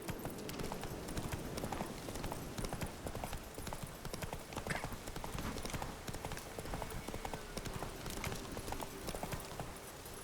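Hoofbeats of a galloping horse in the video game Witcher 3, a rapid, steady clip-clop that runs the whole time at moderate volume, with a soft background tone and no clear speech.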